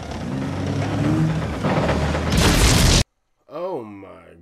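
A tank shot explosion from the 1998 war film Saving Private Ryan, a loud broadband blast building over rumbling battle noise, cutting to a brief silence before a voice reacts.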